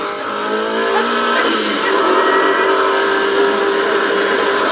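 A bus engine drives steadily at a constant loud drone, holding an even pitch for a few seconds with no talking over it.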